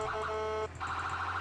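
A siren wails steadily in a fluctuating, warbling tone, cutting out briefly midway and resuming, loud and continuous against a low engine rumble with no talk.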